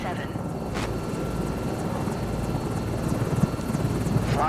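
A steady, loud aircraft engine drone from Microsoft Flight Simulator 2024 runs throughout, with radio-style voice chatter faintly over the engine noise.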